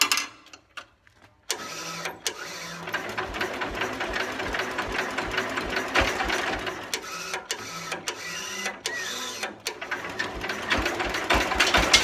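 The small engine of an old Simplicity lawn tractor, saved from the crusher, sputters briefly, then catches and keeps running. It makes a steady, close, rattling drone with a fast chugging rhythm for the rest of the clip, and no one speaks.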